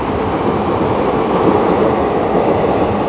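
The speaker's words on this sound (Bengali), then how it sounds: "তিস্তা তোরসা যাচ্ছে, এই ট্রেনটা" The Teesta Torsa Express passes close by with a loud, continuous rolling rumble and a steady rattle of wheels, with no voices over it.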